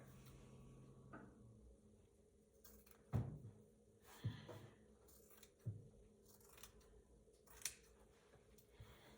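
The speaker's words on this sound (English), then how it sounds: "I'm going to cut right here." Scissors cut paper for a craft cape in a quiet room, producing about five separate, fairly faint snips and crunches spaced a second or so apart.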